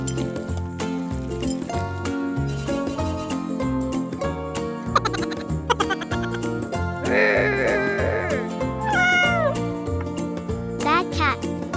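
A cat meows several times, clear rising cries over steady rhythmic background music with some clinking.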